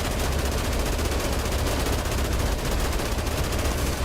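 Rapid turret gunfire in the game Dead Rising Deluxe Remaster, a dense, loud, continuous burst of automatic shots with no pauses.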